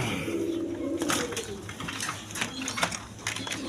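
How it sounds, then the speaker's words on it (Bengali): Racing pigeons coo in a low, steady murmur at close range, joined by scattered rustling and sharp clicks from the birds moving about. "একদম সুস্থ সবল কবুতর, একটা কবুতর অসুস্থ নেই"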